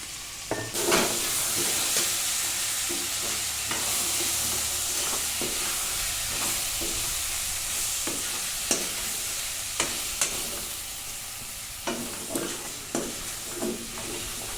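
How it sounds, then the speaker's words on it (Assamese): Pork cooked with laixak greens, Bhut jolokia and spice paste is stir-fried in a pan, giving a steady sizzle and hiss broken by repeated scraping stirs and spatula knocks. "দি মই লাহে লাহে যিমান পাৰোঁ এইখিনি ভাজি থাকিম।"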